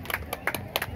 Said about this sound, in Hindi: लेकिन ताली बजाएंगे